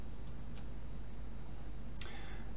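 A few faint computer mouse clicks during work in ArcGIS Pro, sparse single ticks over a steady hum, with one sharper click near the end.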